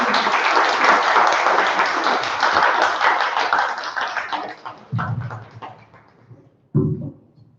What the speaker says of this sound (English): A big and a huge round of applause for Mr. Raghav Chaudhary.